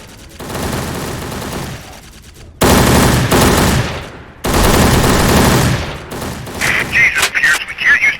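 Gunfire in the video game Secret Service: rapid automatic bursts rattle loudly in long volleys separated by short pauses, followed by a scatter of sharper single shots near the end.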